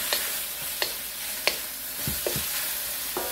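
Onions and shrimp stir-fry on a butane stove, a steady close sizzle broken by several sharp scraping stirs of the spatula at irregular intervals, with no voices.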